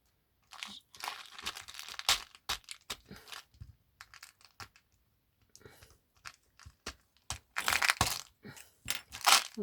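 Plastic package being torn open and handled, crisp crinkling and rustling in irregular bursts with brief quiet gaps, close up and fairly soft, ending in a louder flurry of crackles.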